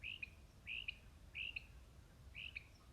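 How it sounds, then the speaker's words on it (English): A bird calls in four evenly spaced, clear two-part chirps, faint and alone against a quiet outdoor background. "The birds are lovely"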